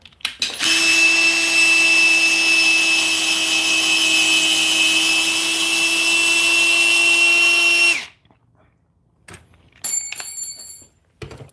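A handheld power tool drills continuously for about seven seconds with a loud, steady high-pitched whine, then stops abruptly, followed by a few scattered clanks and rattles.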